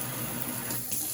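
Water runs steadily from a freshly descaled kitchen faucet into the sink, a close, even rushing hiss with no voices.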